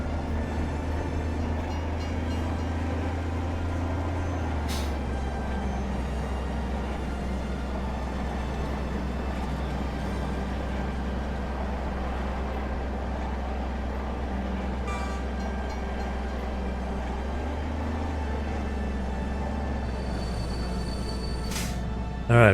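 A train running in the factory-building game Captain of Industry gives a steady, even rumbling drone that holds throughout, with a few faint clicks on top.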